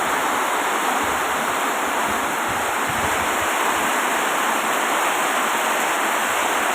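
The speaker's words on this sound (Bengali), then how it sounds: "বৃষ্টির গতি আসলেই অনেক বেশি। সাথে হালকা বাতাস আছে।" Heavy midday rain in Bardhaman pours down with a light wind, a dense, loud, continuous hiss that fills the whole stretch without pause.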